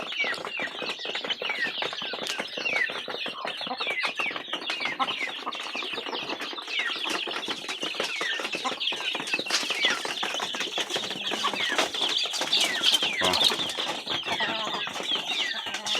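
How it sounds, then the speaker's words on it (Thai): Gamecock fighting chickens on a rural farm cluck and call continuously over a dense bed of bird and insect chatter, steady and moderately close with no talk. "มีแต่ไก่ชนเด้อพี่น้องเด้อมีแต่ไก่ตีแล้ว"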